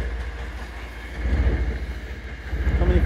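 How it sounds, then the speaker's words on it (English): A train with seven or eight cars rolls past close by, a low rumbling drone with rhythmic wheel beats that swells louder partway through. "That's the train. Look at that beauty."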